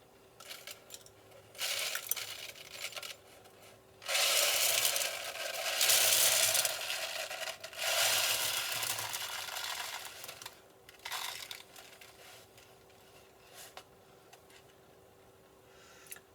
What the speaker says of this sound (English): as I pour my rice into the glass